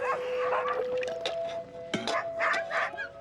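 Sled dogs at a fish camp in Huslia, Alaska, bark and yip excitedly in a rapid, overlapping chorus close by, with a steady whine running underneath.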